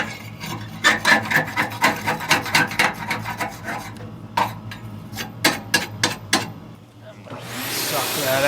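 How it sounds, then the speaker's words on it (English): Carbon buildup is scraped from the sides inside a Harmon pellet stove, a series of close, rhythmic rasping strokes followed by scattered scrapes, then a vacuum cleaner briefly starts up at the end. "Scrape the sides of it."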